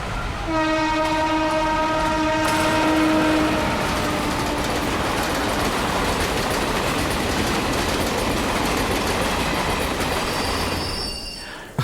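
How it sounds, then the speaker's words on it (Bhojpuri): A train's horn blares for about three seconds, then the train rumbles and clatters along the rails with steady wheel noise and faint squeal, loud and close throughout. "ई ट्रेन टाइम पे पहुंच जाए उहे बड़ बात बा"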